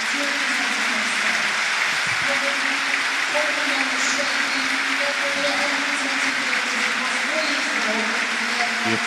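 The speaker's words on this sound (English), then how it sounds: "There'll be a minute's applause before the game starts for Craig Shakespeare and Kevin Campbell" Steady applause from a stadium crowd before a football match between West Bromwich Albion and Leeds United, a sustained wash of clapping with a public-address voice speaking over it.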